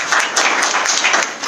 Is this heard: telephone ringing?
no